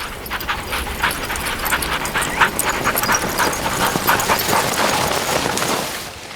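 Sled dogs pull through snow in the Swedish wilderness, heard as steady, rapid padding and crunching of paws with faint panting, continuous and fairly close throughout.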